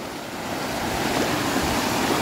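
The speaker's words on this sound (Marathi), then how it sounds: "हय ना जोरात पाणी येतं, त्याच्यामुळे हय काय पाय टिकणत पण नाहीत" Overflow water from a lake rushes hard over a spillway into a waterfall, a steady, loud, close roar of churning water with no voices.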